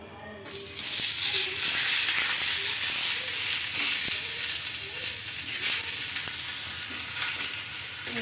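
A paratha hits a hot pan with a little oil, and a loud, sudden sizzle erupts and keeps crackling and hissing steadily, with faint pops and no talking over it.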